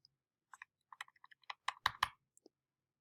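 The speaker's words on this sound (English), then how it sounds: "I can also use my arrows on the keyboard to just nudge it slightly" Keys on a computer keyboard are tapped in a quick, irregular series of crisp clicks, close and quiet, with a few slightly harder presses in the middle of the run.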